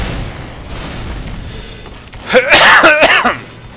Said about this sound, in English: Excuse my coughing into the mic.